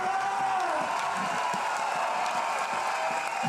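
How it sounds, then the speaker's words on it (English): A large crowd cheers and claps at a BMX freestyle flatland men's final in Montpellier, a dense sustained roar with whoops and applause filling the space, loud and continuous throughout. "Listen to the crowd."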